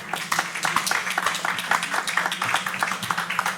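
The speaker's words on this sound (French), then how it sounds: "on peut applaudir une personne comme Isaac" Audience applause in a French café-bar setting, a steady wash of many hands clapping throughout, moderately loud, with a low hum and possible voices underneath.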